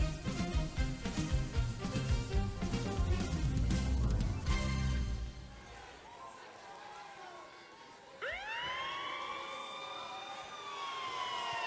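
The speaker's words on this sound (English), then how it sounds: "Those sirens could have been for the New Age Outlaws after what they did." Sirens wail in a WWE 2K25 wrestling game entrance, rising and falling tones sweeping loud over a noisy crowd-filled arena mix, then thinning out as a second siren swell starts near the end.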